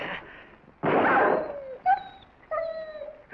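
A dog whimpers and whines in a western film, high tonal cries rising and falling in several short bursts after a loud broadband crash, close and clear with no talk.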